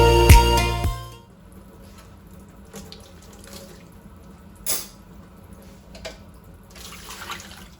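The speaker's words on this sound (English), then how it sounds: "Rinse it off. It also helps if you have a hose on your sink." Dishes rinsed one-handed at a kitchen sink with a hose sprayer: a loud rush of running water for about a second, then it stops and only faint clinks and drips remain.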